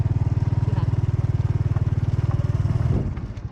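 Motorcycle engine chugging steadily and close while riding along a path through open rice fields, a rapid even putter that swells slightly near the end, with a voice talking over it.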